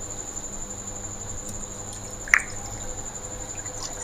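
Water from squeezed almond paste lets fall a single clear drip, with a few fainter drops before it, over a steady hiss in a quiet kitchen.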